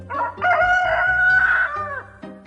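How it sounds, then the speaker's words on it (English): A rooster crows a long, loud cock-a-doodle-doo that rises and then trails off, heard alone and close up. "The cock crows and crows."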